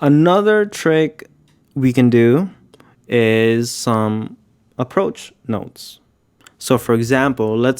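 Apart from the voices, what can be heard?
None of the usual background noises is heard.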